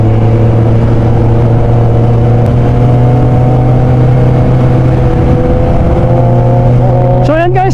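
A Kawasaki Z1000 motorcycle engine drones loud and steady at a held pitch close by, then briefly revs upward near the end.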